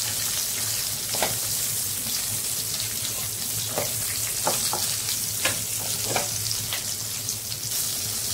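Green chillies fry with salt in a hot oiled pan, making a steady dense sizzle. Sharp pops and splutters break out irregularly throughout, close and moderately loud, with no talking.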